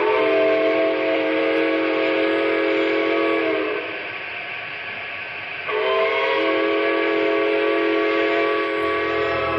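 A train whistle blows in two long, loud, steady blasts separated by a short pause, with a low rumble underneath.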